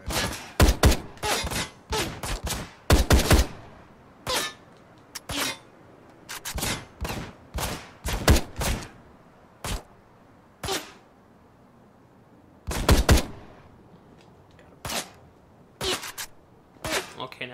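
Repeated sharp gunfire from 'The Doctor', an assault-rifle-like gun in the Ride to Hell: Retribution video game, cracking in short bursts and single shots with gaps between them, loud and close.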